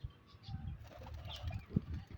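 A pigeon coos softly at close range, with low, breathy murmuring calls and faint rustling in a quiet setting.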